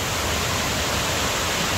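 Heavy, continuous roar of falling water at Kuang Si waterfall in Laos, a close and even wash of sound with no breaks and no one speaking.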